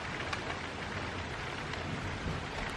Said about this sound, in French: Ah, ça y est, ça arrive. Ça arrive. La pluie.